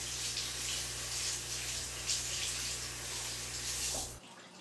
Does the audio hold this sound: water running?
yes